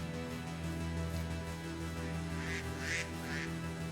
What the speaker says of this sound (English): Lots of ducks. That's cute.